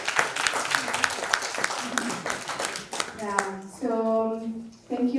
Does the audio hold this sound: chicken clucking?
no